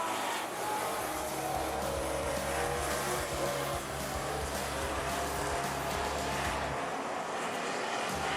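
AMCA race cars lapping Rockhampton Speedway, engines droning and rising continuously at a distance with little talk over the noise.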